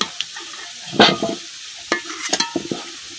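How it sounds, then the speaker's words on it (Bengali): Pieces of taro (kochur mukhi) are tossed into hot oil in a village kitchen, setting off short, irregular bursts of sizzling and spattering separated by quiet gaps. "এখন মুখিগুলো আমি সব উড়াই দিতেছি"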